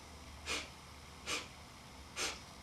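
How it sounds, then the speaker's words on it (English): Three short, sharp sniffs in through the nose during a breathing exercise for singing, evenly spaced and close, against near silence. "and then 4 sniffs."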